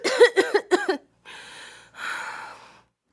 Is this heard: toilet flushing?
no